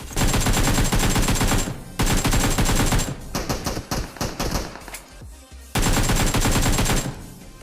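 Rapid automatic gunfire in the PUBG Mobile battle royale game, long loud continuous bursts broken by short pauses and scattered single shots, with no voices over it.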